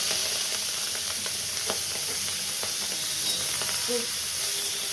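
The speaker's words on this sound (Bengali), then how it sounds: "গুগলিটাকে আমি এই ভেজে নিচ্ছি" Snails sizzling in oil with turmeric and salt in a wok, a steady loud hiss and crackle throughout, close up with occasional faint stirring scrapes.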